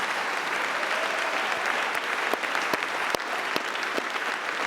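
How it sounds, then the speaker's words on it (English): A crowd applauds steadily throughout, a dense wash of clapping with a few sharper claps standing out. "Let's give them a round of applause."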